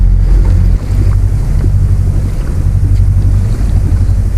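A sailboat motoring under engine power at 1500 rpm on a flat, windless sea near Cap Creus, giving a steady low droning rumble with wind buffeting the microphone, loud and continuous with no talk.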